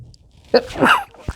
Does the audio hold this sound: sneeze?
yes